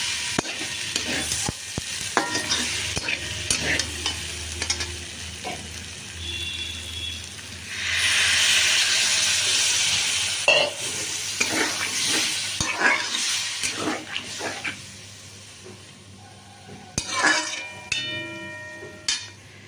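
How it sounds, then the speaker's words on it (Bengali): Potatoes fry in a pan with a steady, loud sizzle that swells into a strong hiss midway, broken up by close clinks and scrapes of stirring. "আলুটা আমি ভাজতে দিয়ে দিয়েছি"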